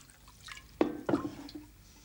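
Water poured into a jug that already holds a little water at the bottom, producing two faint splashing, glugging bursts close by in a quiet room.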